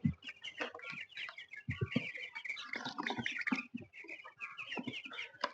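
Young broiler chickens, about 22 days old, cluck and chatter continuously in a crowded poultry farm shed; several birds call close by and overlap without pause, with no talking.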